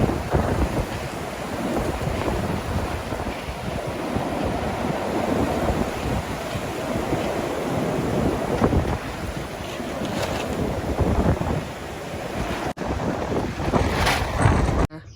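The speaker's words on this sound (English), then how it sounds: "do not be deceived because the wind has been nuts" Strong wind buffeting an outdoor garden plot, a loud constant roar and rumble with gusty microphone buffeting that never lets up, steady and close throughout with no talk.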